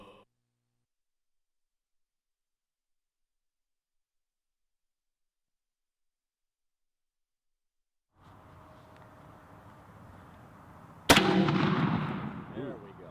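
A shotgun firing a turkey load: one sudden loud boom after a stretch of silence and low room noise, followed by a rumbling decay with faint voices.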